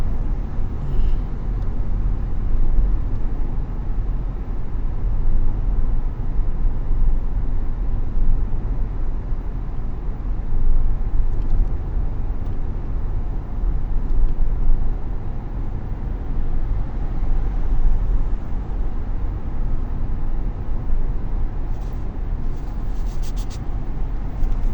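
Car cruising on a highway at about 120, a constant loud low road and engine rumble with wind roar, steady and unbroken from start to finish.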